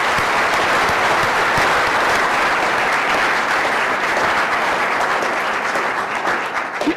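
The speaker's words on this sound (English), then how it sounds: "please join me in giving them a big round of applause" A large audience at a city's state of the city address gives a sustained, loud round of applause for community partners and sponsors, dense clapping that holds steady throughout without talk.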